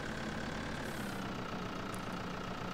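A Lamborghini tractor idles as it parks by the road, giving a steady, even engine rumble with a faint high whine, constant and unbroken, with no voices.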